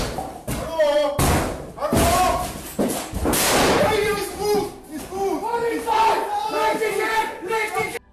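German special police units force their way in through a door, with heavy thuds and slams among loud shouting voices and commotion, the impacts near and repeated over several seconds.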